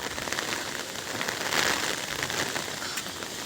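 Steady morning rain falls in Vallabhipur, a dense, even patter on surfaces that holds at a constant loudness with a slight swell midway, no voices.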